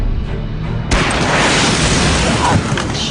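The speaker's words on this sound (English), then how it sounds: "That rocket-propelled grenade whizzed right over his head." A rocket-propelled grenade fired in combat, heard as a sudden loud broadband blast that jumps out of quieter ambience and then roars on as sustained rumbling noise.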